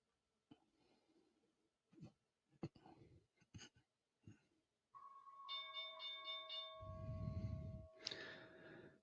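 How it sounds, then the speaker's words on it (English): Stock market opening bell ringing at the start of a live trading day, a sustained bright electronic tone holding for several seconds after scattered quiet breaths and low sounds. "The bell has rung."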